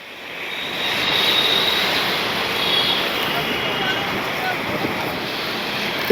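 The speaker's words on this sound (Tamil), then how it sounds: "தண்ணி வேகமாக போகுது" Loud, steady roar of a large fast-flowing river at Howrah Bridge, Kolkata, a broad rushing wash that swells slightly, with some wind buffeting the microphone.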